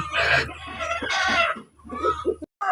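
A Rhode Island Red hen clucks up close in short, rough bursts over about two seconds, with a brief silence near the end.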